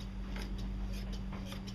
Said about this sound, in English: She's going to cut them off to give the same thickness,